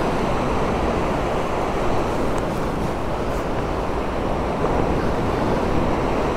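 Wind gusts steadily across an open UK seashore where flounder fishing is under way, with a constant loud roar of moving air and surf washing in close by, uninterrupted for the whole stretch.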